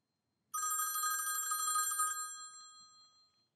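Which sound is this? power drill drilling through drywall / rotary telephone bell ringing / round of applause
rotary telephone bell ringing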